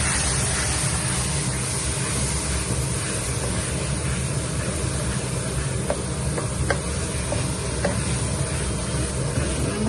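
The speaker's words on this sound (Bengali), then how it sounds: "ভালো করে মশলাটা কষিয়ে নিচ্ছি। কালো কালো করে কষিয়ে নিব।" Spices of chili powder and turmeric being sautéed dark in a pan for a chicken gizzard-liver curry with mung dal: a dense, continuous close sizzle with faint clinks of stirring, no speech.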